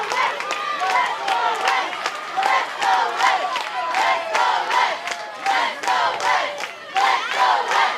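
A crowd at a Junior League Softball championship game between Palo Cedro, California and Charlotte, North Carolina cheers, chants and shouts steadily and loudly in rhythmic pulses for several seconds.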